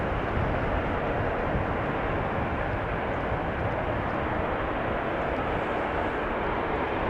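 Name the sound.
KLM Embraer jet aircraft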